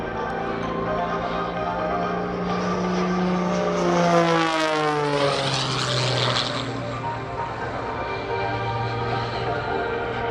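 A propeller-driven aerobatic airplane flown by Sean D. Tucker roars past at an Air National Guard open house airshow in Rhode Island, engine pitch sliding down with a strong Doppler sweep as it passes close and loud, then drones on steadily.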